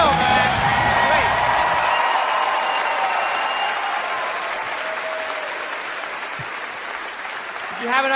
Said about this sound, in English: Bill Burr, round of applause for Bill,